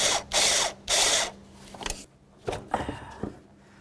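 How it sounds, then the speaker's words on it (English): Ratchet with an 8mm socket on a short extension loosening the throttle body clamp on a 2008-12 Chevy Malibu: two loud bursts of rapid clicking, then quieter intermittent clicks and knocks, close up with no talk. "Now I'm going to use my 8mm with a short extension, and I'm going to come right under here, and I'm going to try to get to the clamp right there."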